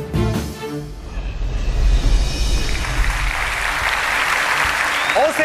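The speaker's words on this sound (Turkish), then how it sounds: "Alkışlar Belgin için." Studio audience applause on the Turkish TV singing show O Ses Türkiye during a duel round, a steady, loud wash of clapping and crowd noise lasting throughout, with a host's voice briefly audible at the start.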